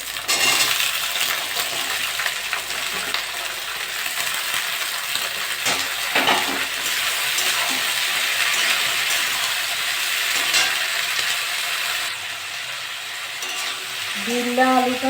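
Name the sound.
potatoes and bituli frying in a pan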